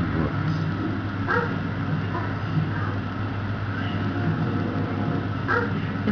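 Hyenas bark in dog-like yelps in a wild setting, several sharp calls spaced out over a steady droning background, moderately distant and not very loud.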